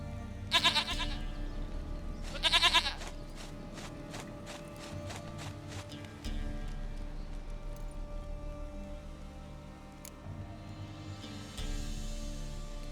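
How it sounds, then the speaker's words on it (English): Goats bleating in The Witcher III: Wild Hunt, two loud wavering bleats near the start, then softer repeated animal calls over a steady low ambient hum and faint clinking. "Goat of mine, dearest,"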